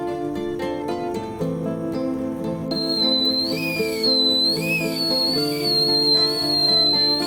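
An idiyappam steamer pot cooking South Indian string hoppers gives off a loud, sustained steam whistle, a steady high tone that wavers and bends near the end.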